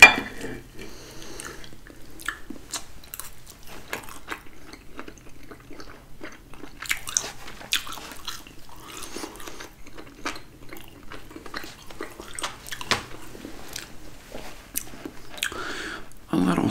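Steak dinner eaten up close in an ASMR mukbang: wet chewing and biting with crisp crunches, plus the light clink of cutlery and dishes, all close to the mic and with no talking.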